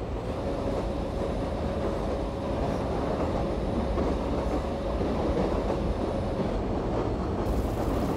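Express passenger train on the Bangalore–New Delhi Karnataka Express route rolling steadily along the rails, a continuous loud rumble of wheels and carriage noise with faint clatter, no voices.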